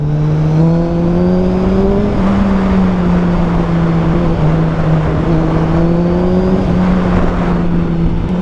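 A 2024 Suzuki Hayabusa with a dual exhaust runs loud and close, a deep steady engine drone that rises slightly in pitch and dips again as the revs shift, with no voices.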